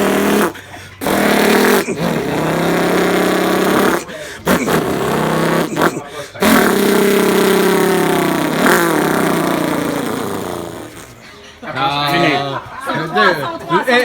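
A person imitates a revving motorcycle engine with the mouth, long loud buzzing vocal drones rising and falling in pitch, broken by short pauses, with other voices chattering near the end.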